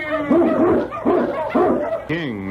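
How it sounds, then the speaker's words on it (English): An Eskimo lead dog barks and yelps in an old-time radio drama, several quick harmonic barks in a row followed by a whining yip, close and loud, with an announcer's voice also present. "King, the swiftest, strongest of Eskimo lead dogs, blazes the trail through storm and snow"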